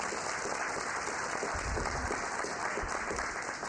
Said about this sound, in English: You deserve the applause.